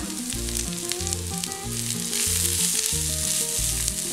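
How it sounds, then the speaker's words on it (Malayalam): Crushed coconut mixture for sardine pollichathu dropped into a hot pan, a loud steady sizzle and crackle of frying close up, with rhythmic stirring scrapes repeating throughout. "ഇതിലേക്ക് ഇപ്പം നമ്മൾ ചതച്ച് വെച്ചിരുന്ന ആ തേങ്ങയുടെ കൂട്ടുണ്ടല്ലോ അതിട്ട് കൊടുക്കാം"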